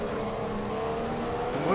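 Formula 1 car engine in the F1 2015 racing game at the Brazil race start, a steady, loud engine drone with a slight rise in pitch toward the end, no talk.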